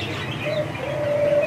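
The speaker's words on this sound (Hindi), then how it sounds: "ये देखें जी, ये कबूतर है," Soft, low cooing of pigeons at a bird market, a gentle murmuring call repeated over a hushed outdoor background.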